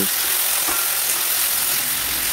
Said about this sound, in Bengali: এরপরে আমি যে টমেটো পেঁয়াজগুলো কেটে রেখেছি ওগুলো কিন্তু তেলের মধ্যে ভেজে নেব, ভালো করে ভেজে নিচ্ছি।